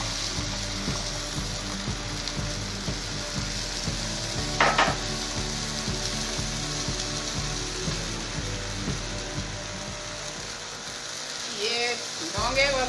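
Milk poured onto a hot tawa griddle for a home cough remedy, giving a continuous frying hiss with a mechanical hum beneath, a brief clatter midway and a watery splash near the end.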